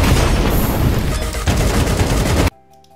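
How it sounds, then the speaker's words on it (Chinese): Rapid AK rifle fire in Counter-Strike 2, a dense, loud burst of automatic shots lasting about two and a half seconds before cutting off to quieter game sound. "枪声又变得比较低沉"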